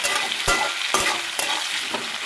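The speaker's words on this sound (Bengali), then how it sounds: "আলুটা জিরে তেজপাতা শুকনো লঙ্কা দিয়ে ভাজা বসিয়ে দিয়েছি" Potatoes fry in oil with cumin, bay leaf and dried chili, a constant hiss of sizzling punctuated by four evenly spaced spatula scrapes and knocks against the pan; no one speaks.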